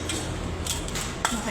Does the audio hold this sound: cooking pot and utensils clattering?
yes